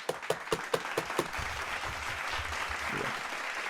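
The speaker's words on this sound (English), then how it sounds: "Round of applause." A few sharp hand claps open, then a brief burst of scattered applause that fades into low murmuring background noise.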